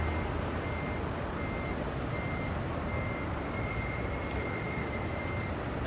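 A reversing alarm beeps steadily as a truck backs up a trailer in American Truck Simulator, the repeated tone sitting over a constant low engine rumble with no pauses.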